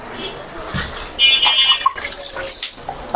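Water splashes over a motorbike during a wash in which detergent powder is mixed into the water, a close, uneven spray and trickle with brief drips, heard alone.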